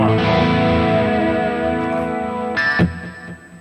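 Electric guitar played through a Harley Benton DNAfx Git pro multi-effects unit on a low-distortion setting with stereo chorus, ringing out a sustained chord with a shimmering wash, then a sharp bright strum that decays.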